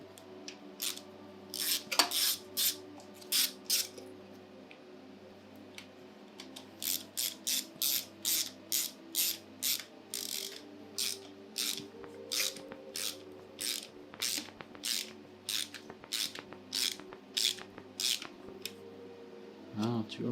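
A ratchet clicks in quick bursts while parts are tightened on a Nissan 350Z plenum, with rapid repeated clicking runs separated by short pauses and a low hum underneath.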